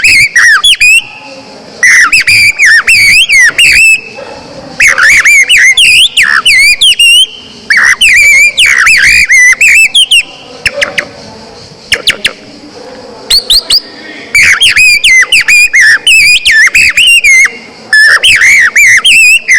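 A person whistles an imitation of a blackbird's song in loud, close bursts of fluting, warbling phrases with short pauses between them and no talk.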